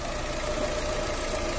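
A 2017 Fiat 500 engine idles in a faint, steady hum with a soft, even knock and no voices.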